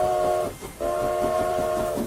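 A train whistle blows in a sustained, loud tone, cuts out briefly, then sounds again in a long second blast over steady rolling rumble.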